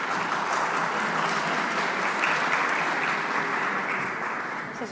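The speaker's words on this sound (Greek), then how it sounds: "Κυρία Κασελάκη, παρακαλώ να την υποδεχτούμε με το πιο θερμό σας χειροκρότημα." Warm applause from a forum audience welcoming a speaker onto the stage, a dense, steady wash of many hands clapping at an even loudness throughout.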